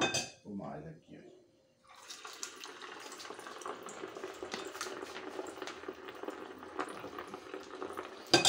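Kibbeh frying in hot oil gives a steady, close sizzle with fine crackles and pops throughout, after a few brief handling knocks at the start.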